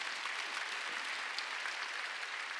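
A congregation at a Sunday church service claps together in a steady, fairly soft burst of applause heard from the room, with no talk over it.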